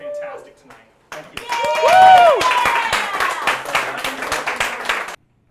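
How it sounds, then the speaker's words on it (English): A small crowd applauds and cheers the returning axe-throwing champion Matt Bradshaw at a league event, a short burst of clapping with whoops and voices that cuts off abruptly after a few seconds. "Thunderous applause for Matt the Magic Man Bradshaw, champion once again here on Battle Axe."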